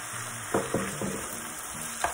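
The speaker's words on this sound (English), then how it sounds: "that's been sauteing with the tomato paste for like 3 minutes. Now I'm going to add a tablespoon of minced garlic" Minced garlic and tomato paste sautéing in a pan give a steady soft sizzle, with several sharp scrapes of a utensil stirring through it and no talking.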